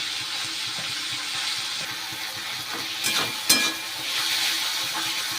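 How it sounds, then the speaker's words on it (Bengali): Egg bhujia and ingredients frying in a pan at home, a steady sizzling hiss with a few louder crackles and stirring scrapes partway through, close and alone. "চলুন এরা ভাজা হোক।"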